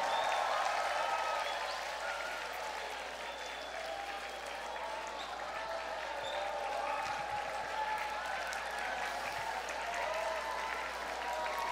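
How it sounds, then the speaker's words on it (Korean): Sustained applause from an audience at a summer church retreat gathering, a dense, even wash of clapping hands that stays steady for several seconds, with faint crowd murmur underneath. "크게 박수해주고 한 번씩 안아줘요."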